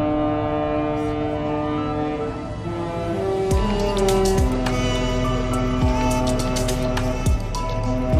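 A deep, loud horn from the cruise ship Liberty of the Seas departing Fort Lauderdale Cruise Port blasts in long sustained tones, with a steady low rumble and background noise.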